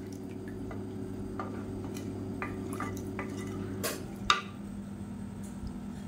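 A spoon stirs foxtail millet and water in a cooking pan, with scattered scrapes and clinks over a low steady hum and one sharp metallic knock near the end.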